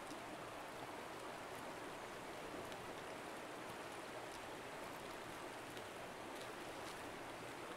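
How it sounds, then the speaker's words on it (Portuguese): River water flows in Escape from Tarkov, a faint, continuous rushing wash with no pauses and no one talking. "Aqui é o riozinho, tá dando pra escutar o fluxo da água."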